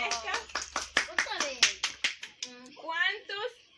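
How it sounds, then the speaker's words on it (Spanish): Brief burst of clapping for a child who answered a Bible quiz question at a church children's program, short rhythmic claps near the start, followed by a child and an adult speaking. "un aplauso para Valesca"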